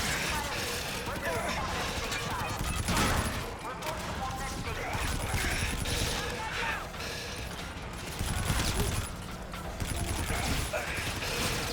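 Gunfire and mechanical clatter in the Call of Duty: Infinite Warfare campaign, continuous dense battle noise with shots running through it and voices talking over the din.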